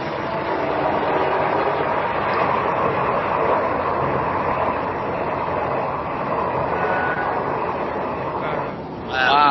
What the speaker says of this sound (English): Wow, that train is long as shit. I can see it going.